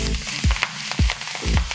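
Roughly chopped dandelion greens, arugula and beet tops wilt in hot fat in a pan, giving a steady close sizzle broken by a few soft low thumps, with no talking.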